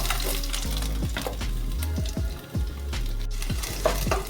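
Ginger, dried chillies and fenugreek fry in sesame oil with a steady, close sizzle, broken by repeated scraping strokes of a spoon stirring the pan.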